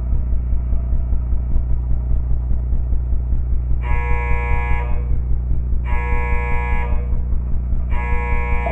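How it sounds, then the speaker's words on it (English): An alarm sounds in the Five Nights at Powerpuff Girls horror game, three loud, even blasts of a few seconds each, repeating over a steady rumbling game background. "why is the alarm going off?"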